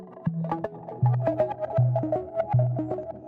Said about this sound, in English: the second layer is from Omnisphere